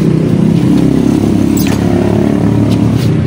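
A Yamaha Mio i 125 fuel-injected scooter with a starting fault cranks and runs close by, a loud steady engine chug with mechanical clatter and a brief scraping sweep midway, no voices.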